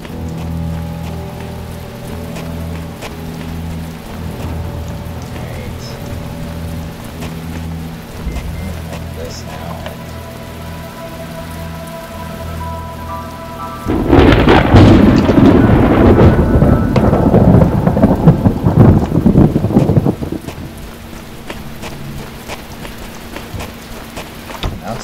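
In The Talos Principle, a stormy outdoor scene carries steady rain and a low rumble, and a loud crack of thunder swells into a heavy roar midway before fading back to rainfall.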